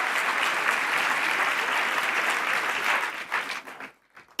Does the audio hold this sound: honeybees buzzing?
no